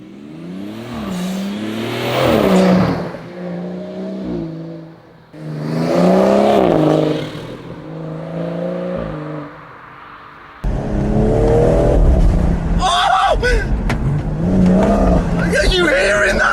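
A BMW M240i fitted with a carbon induction kit revs hard in repeated loud, rising bursts building boost, with a rougher, louder stretch near the end and a person talking over it.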